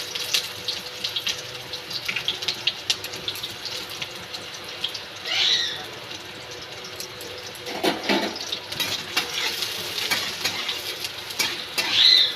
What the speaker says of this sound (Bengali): কড়াইতে তেল দিয়ে দিয়েছি, তেলটা অবশ্যই গরম হয়ে গেছে। এবার আমি পেঁয়াজগুলো ছেড়ে দেব।